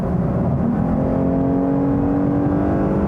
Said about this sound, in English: So this is in normal right now. I'll floor it.